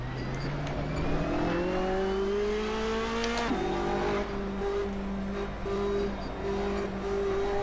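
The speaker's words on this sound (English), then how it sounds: "Tires locked up." A race car lapping in Assetto Corsa, its steady engine drone shifting pitch as the tires lock up under braking, loud and continuous with no talk.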